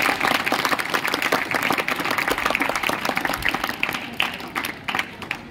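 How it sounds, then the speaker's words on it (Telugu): Children in a school gathering clap together, a dense burst of applause that runs steadily for several seconds and then thins out into scattered claps toward the end. "చప్పట్లు కొట్టండి శిశువులు."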